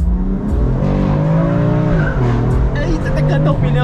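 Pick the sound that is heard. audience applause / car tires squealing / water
car tires squealing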